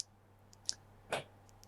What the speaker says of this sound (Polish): Przyciskamy i przechodzimy przez tryby niski, średni i wysoki.